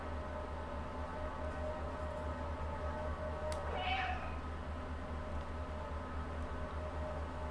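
A cat meows once in the video game Stray, a short, faint mew rising over a steady hum of game ambience and background noise.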